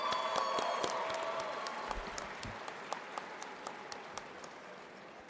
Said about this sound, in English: please join me in applauding everyone who has helped us reach this moment.